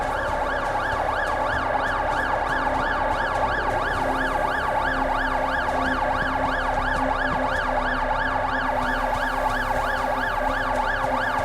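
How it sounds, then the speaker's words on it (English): A wailing emergency siren from a police car or ambulance in the video game The Alters sweeps up and down continuously and loudly for the whole stretch, over a steady low rumble, with no talking. "Oh, cop car."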